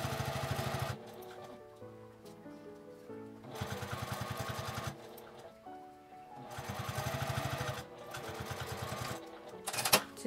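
A sewing machine stitches along a fabric edge while a zipper pouch is assembled, running in three steady rapid bursts with short pauses between them, close and fairly quiet.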